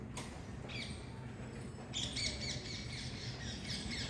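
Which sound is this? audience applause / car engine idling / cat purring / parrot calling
parrot calling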